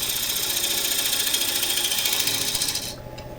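Lathe tool cutting elm on a woodturning lathe, a steady broadband hiss and whir over the motor hum that runs continuously before dropping away as the cut ends.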